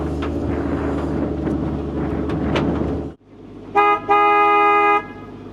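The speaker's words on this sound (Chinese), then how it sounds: "船长在鸣笛，因为这是个拐弯" A boat horn sounds from a small boat rounding a bend in a Cambodian floating village, one short toot and then a longer steady blast after engine rumble cuts out.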